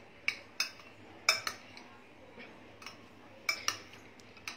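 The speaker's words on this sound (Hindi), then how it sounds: "इसे हम मिक्स कर लेंगे अच्छे से।" Chopped coriander being stirred into a salad in a bowl, with a utensil clinking sharply against the dish in a handful of distinct taps, fairly close and clear over a quiet background.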